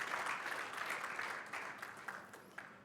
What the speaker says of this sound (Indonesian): Yang setuju, tepuk tangan sampai surga mendengar.